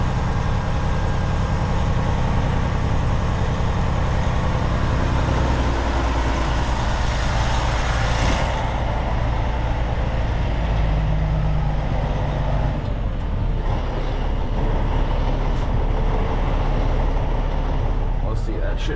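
Peterbilt truck pulling a grain trailer, a steady loud diesel engine drone with low rumble heard from inside the cab throughout.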